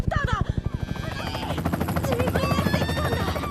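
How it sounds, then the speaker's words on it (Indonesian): An evacuation helicopter arrives with rapid rotor thumps that blur into a continuous chop, loud and close, while voices talk over it. "datang helikopter evakuasi menyelamatkan Ayumu dan semuanya"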